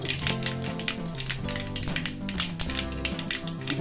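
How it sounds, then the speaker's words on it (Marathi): Mustard seeds and cumin sizzle in hot oil, crackling and popping in quick irregular bursts over a steady frying hiss, with tonal hum running underneath. "तेल गरम झालेलं आहे, त्यामध्ये मोहरी टाकायची आहे, अर्धा चमचा, जिरं घालायचं अर्धा चमचा"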